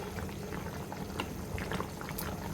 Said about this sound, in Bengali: আমাদের কষা মাটনে বলক চলে আসছে